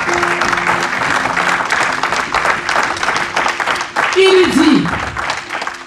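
A church congregation applauds and cheers throughout, a dense steady wash of clapping with a voice speaking over it and a brief sung or shouted rise near the end.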